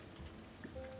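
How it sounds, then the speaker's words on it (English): Rain begins falling in the Disney Dreamlight Valley video game, a soft, steady patter that stays faint and even throughout the moment, with no voices over it. "Of course it starts raining."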